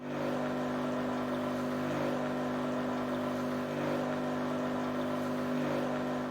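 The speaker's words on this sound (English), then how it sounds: "Long press the single or double cup button until the corresponding indicator flashes and the machine starts to dispense coffee." A Cowsar 80431KCM0 espresso machine dispenses coffee with a steady, droning pump hum that holds at an even level throughout, with no talking.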